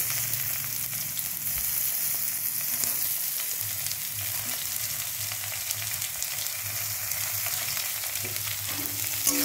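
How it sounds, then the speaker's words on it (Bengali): Chopped onions fry in a pan with a continuous, fairly close sizzle as they are stirred, with soft scraping from the utensil mixed into the steady hiss. "এবার পেঁয়াজ কুচি দিলাম পরিমাণ মতো।"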